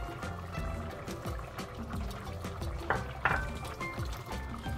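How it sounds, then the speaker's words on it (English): Coconut milk poured into a pan of simmering braised chicken, a steady liquid stream splashing and trickling with a couple of louder glugs near the end. "we're gonna add in our coconut milk"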